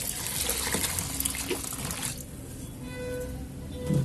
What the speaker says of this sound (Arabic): وهنحط عليه اللبن